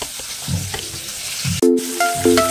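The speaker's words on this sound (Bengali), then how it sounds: "অল্প তেলে এরকম মাছ ভাজতে হবে" Pieces of rohu fish frying in a little oil in a pan, a close, loud sizzle with stirring bursts and a brief sharp break, with some faint tonal sounds near the end.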